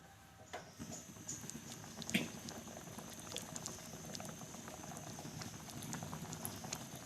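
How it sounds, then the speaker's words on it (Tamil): Sri Lankan-style coconut chutney sambal bubbles in a pan over moderate heat, a close, faint, continuous patter of popping bubbles with one brief clink. "சம்பல் வந்து கொதித்து வந்துட்டுது."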